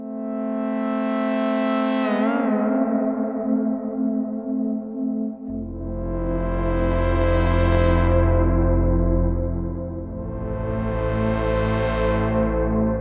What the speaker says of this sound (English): this is the sound of the Moog Matriarch